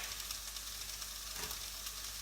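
Chopped onion sizzles in a pan over fairly high heat, a steady, dense crackling hiss that runs unbroken and fairly close throughout, with no voices.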